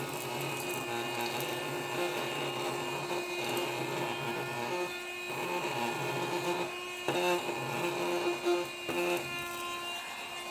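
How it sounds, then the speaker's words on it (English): A Baseus C2 capsule desktop vacuum runs steadily close by, its constant whirring motor hum wavering slightly as it sucks up cut Gundam model parts, with brief rattles partway through. "it's just vacuuming up Gundam parts"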